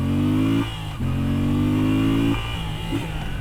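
A Moto Guzzi V7 Sport's air-cooled engine revs hard and loud up close, climbing in pitch with short drops between gear changes, with no talk over it.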